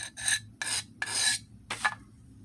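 A blade being sharpened on a DMT DiaFold extra-coarse diamond plate, four short, light rasping passes in quick succession, close and crisp with quiet gaps between strokes, no voices.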